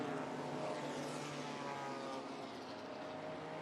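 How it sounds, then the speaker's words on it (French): Classic Porsche racing car engine at the Le Mans Classic 2018 race, a steady broadband roar that holds throughout at moderate distance, fading slightly toward the end, with no talk. "Et ça, c'est un moteur."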